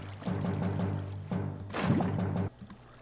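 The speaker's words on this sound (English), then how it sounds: "Get one more bucket of lava." Lava poured from a bucket in Minecraft, a steady glugging liquid pour lasting about two and a half seconds with a brief bubbling surge near the end, then quiet.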